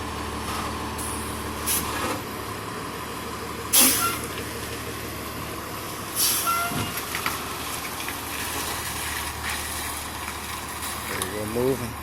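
Fire Engine 38 rumbles at idle in a steady low drone, with air-brake hisses and bursts of background voices over the engine noise.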